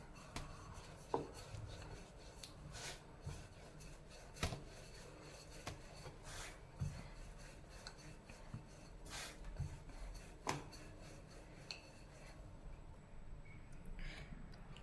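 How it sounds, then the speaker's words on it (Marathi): A rolling pin works onion paratha dough on a board scattered with sesame seeds, coriander and flour, giving faint, soft rubbing with light irregular thumps as it moves back and forth. Nobody speaks. "आता पोळी लाटून घेणार आहोत ही पोळी आपण एकाच साईडने लाटणार आहोत"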